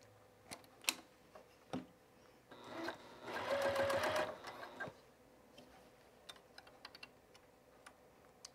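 A new sewing machine runs close by in a short burst of rapid stitching, with quiet ticks and clicks of handling before and after.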